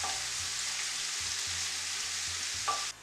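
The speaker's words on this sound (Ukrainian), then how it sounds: "Мішаю цибульку, щоб добре протушкувалася, була м'ятка, солодка." Onions fry in a pan with a constant soft sizzle while a utensil stirs them in slow, regular strokes. The low scraping pulses repeat under the hiss, with no talk.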